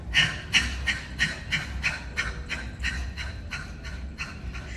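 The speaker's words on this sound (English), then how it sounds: "we're gonna take a nice inhale and a rapid exhale" A person doing seated qigong breathing gives a series of about a dozen rapid, forceful exhales through the nose in an even pulsing rhythm, close and clear.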